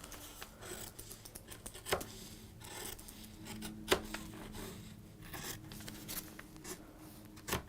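Fabric scissors snip repeatedly through fabric around a pinned paper pattern, giving quiet, close crisp cuts and rubbing with a few sharper clicks and no talking.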